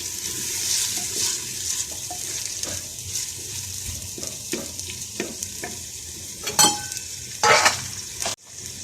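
Tomatoes frying in a pan for a liver and lungs curry, with a close, crackling sizzle, irregular spoon scrapes and knocks, and a couple of louder bursts of spitting near the end.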